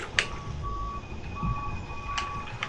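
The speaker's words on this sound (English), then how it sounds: "I literally love that backing up noise, like if you're actually at like a construction site." Forklift reversing alarm in the video game Shenmue, a steady series of electronic beeps at an even pace over a low engine rumble.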